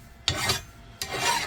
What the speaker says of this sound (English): Before you file, the high spots are going to come off and the black is going to stay in the low spots